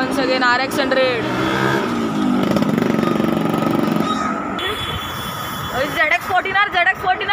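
A Yamaha RX100 motorcycle engine revs repeatedly at a gathering of bikes, with sharp rising throttle blips and a busy rumble, mixed with nearby talk and other engine noise.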